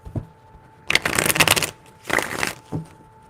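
Tarot cards riffled in two long bursts with a short flick at the start and end, close and crisp with no talking.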